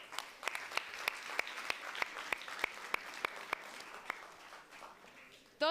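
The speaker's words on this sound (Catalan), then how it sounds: "També un fort aplaudiment, que ho fan molt bé, no?" Clapping from a ceremony audience for a short-film competition, a dense wash of hands with distinct close claps punctuating it, gradually thinning and fading toward the end before a sudden louder sound cuts in.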